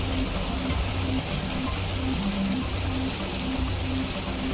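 Rain falls steadily in the video game Schedule 1 as a dense, even hiss of drops on surfaces, with a low hum running underneath and no pause over the few seconds.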